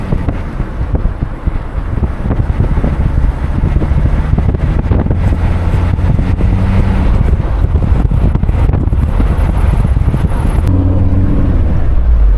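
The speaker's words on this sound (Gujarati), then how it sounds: "એને ટાઢો ટાઢો પવન આવે છે" Cool breeze blowing outdoors, a continuous wind rushing and buffeting against the microphone, loud and steady throughout with a low rumbling undertone.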